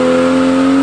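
A tuned, modified BMW built to roughly 600 horsepower, with a cutout fitted in the exhaust system, holds a loud, steady engine drone with a strong low hum for under a second.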